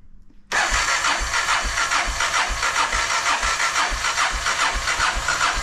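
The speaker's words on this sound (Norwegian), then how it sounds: "Det er sånn en gammel Honda skal starte." An old Honda engine started on full choke with no throttle catches after a brief quiet moment, then runs loud and steady with a fast, even pulsing idle throughout.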